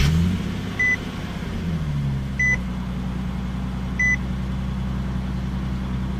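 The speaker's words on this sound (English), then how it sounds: "Just put your foot on the brake and the clutch," A 2009 Nissan 370Z NISMO engine fires and settles from a brief flare into a low, steady idle close by, while three short electronic chime beeps sound at even intervals over it.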